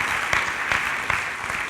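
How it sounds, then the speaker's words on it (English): A live audience applauds a young boy coming up onto a stage at a leadership academy event, a steady wash of clapping with a few louder bursts, fairly close and with no talk over it. "Let's give our young guy a round of applause for coming right up on stage"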